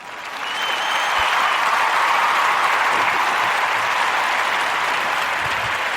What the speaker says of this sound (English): give a warm narrative podcast round of applause for Stephen Davis and the Takeoff Baggage Company